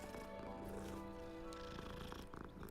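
A cat purrs steadily as it is petted in the video game Hogwarts Legacy, a continuous close, low rumble running unbroken throughout.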